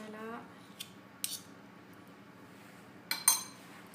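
A spoon pressing stuffing into a hollowed patidou squash makes faint soft scraping and a few brief light clinks against the rim, quiet and close.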